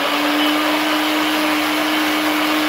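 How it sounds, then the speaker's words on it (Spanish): Loud, steady grinding roar of a kitchen blender milling beans together with dry avocado leaf, continuous and unbroken throughout. "Vamos a moler, vamos a hacer ruido"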